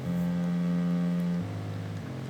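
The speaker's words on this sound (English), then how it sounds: "Here's what the long bass sounds like." Long, sustained low bass note from a video game music track, held steadily for over a second before dropping to a lower tone, soft and alone.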